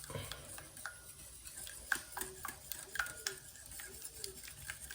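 Ragi cupcake batter made with butter is stirred in a bowl, producing quiet, rhythmic scraping and light clinks of a spoon against the bowl at close range.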